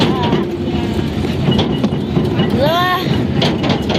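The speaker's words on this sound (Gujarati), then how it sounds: "રેલગાડીનો અવાજ" A train runs along rails with a steady broadband rumble and rolling clatter throughout, a brief metallic wheel squeal rising near the end, and faint voices heard in the background.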